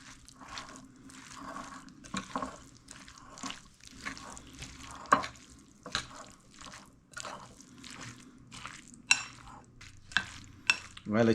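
Cooked spicy salmon roll filling is stirred and mixed in a bowl, giving quiet, repeated wet squelches and scraping strokes in an irregular rhythm, close but faint.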